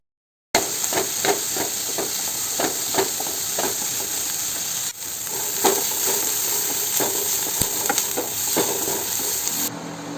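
Vegetables frying in a pan for a white and pink sauce spiral pasta, a steady loud sizzle and hiss with scattered stirring scrapes and clinks throughout, no voices.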